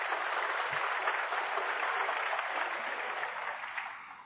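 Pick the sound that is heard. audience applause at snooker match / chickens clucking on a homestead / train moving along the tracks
audience applause at snooker match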